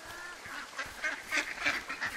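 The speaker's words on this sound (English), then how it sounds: "I keep hearing ducks out there, but I don't see a one." Ducks quack in the Firewatch video game wilderness: a series of short, fairly faint nasal calls repeat irregularly over a soft ambient background, with no talk.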